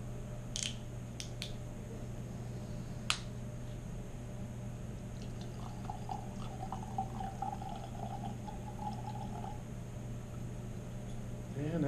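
Glenfiddich 12 year old single malt scotch whisky is poured into a glass, a soft trickling stream in the middle of the clip over low room hum, with a few sharp clicks early on.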